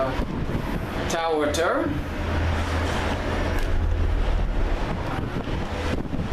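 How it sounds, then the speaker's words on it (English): Wind buffets the microphone with a constant low rumble, while a brief voice speaks and a whooshing sweep passes early on. "It's really windy right now."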